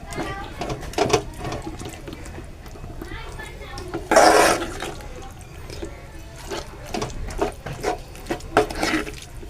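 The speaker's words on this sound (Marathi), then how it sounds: "आपल्याला पाणी टाकायलाच लागेल ह्याच्यात." Water is poured into a cooking pan for a matar paneer dish, a short loud splashing burst midway amid kitchen clatter and ongoing talk.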